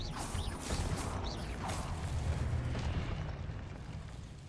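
Stupefy and Expelliarmus spells being cast in a Harry Potter video game, giving dense whooshing magical bursts and crackling impacts. The effects run continuously and loudly for several seconds with no voice over them.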